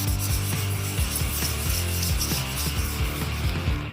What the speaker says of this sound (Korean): 이걸 젖은 사포로 살짝 문질러서 표면을 좀 부드럽게 만들 수 있는지 한번 볼게요